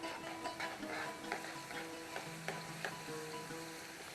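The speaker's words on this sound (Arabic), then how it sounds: "ونجي نحط الفرشيطة نرميها في الزيت وندور" Pastry frying in hot oil, with a steady, close sizzling hiss broken by small pops and occasional stirring clicks, moderately quiet and without voices.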